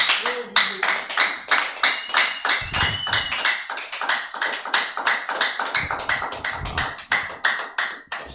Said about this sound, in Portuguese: Salva de palmas para Deus, irmãos.